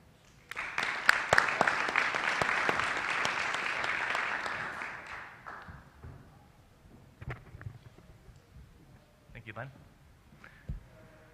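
Audience applause welcoming a speaker at a lecture on campus energy conservation, a dense burst of clapping for about five seconds that fades into scattered claps and room noise.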